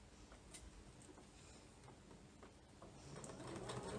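A sewing machine runs steadily, stitching fabric for a French seam at a 5 mm allowance while a double-breasted shirtdress is being made; the motor hum is fairly quiet and constant, growing a little louder toward the end, with no talking.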